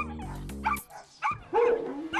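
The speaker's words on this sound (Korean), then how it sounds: "지저대는 동네 개들을 보며 싱츠가 굉장히 흥분하는 모습을 보였었죠." Neighbourhood dogs bark and yip in sharp, close bursts, with a rapid, rattling run of barks at the start, then scattered yelps and a whimpering, excited cry near the end.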